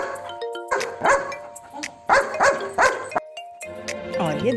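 Cartoon dog barking in a children's animal-sounds lesson, a series of loud, close woofs in bursts, with a doorbell-like chime and musical tones mixed in.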